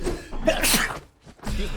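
A single sharp sneeze cuts through the noisy mix of a Brawlhalla 2v2 grand-finals stream, followed by a brief quiet gap before other sound resumes.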